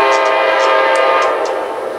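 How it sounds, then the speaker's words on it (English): The Auto Train passes through Selma, North Carolina, its loud horn blowing a sustained, harmonic blast close by over the rumble of the moving train, fading slightly at the end. "it looks like PO53, the auto train on track 1."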